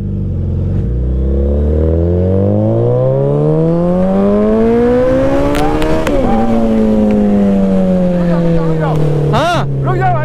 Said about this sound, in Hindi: अरे बहुत ज्यादा भगा दिया गाड़ी को।